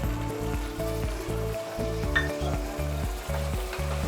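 Green peas frying in a pan with onions and ginger garlic paste, giving a steady close sizzle with occasional soft stirring scrapes, no voices.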